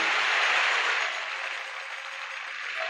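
Audience applause welcomes a traditional northern Thai folk fiddle-singer onto the stage, a dense crowd clapping that starts full and eases slightly over three seconds, with no one speaking.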